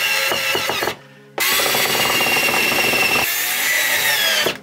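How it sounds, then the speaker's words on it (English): A screw gun drives screws into the countersunk holes of a wooden pack basket base, giving loud, close whirring bursts: a short run, a brief pause, then a long continuous drive that tapers off. "And put these in with a screw gun."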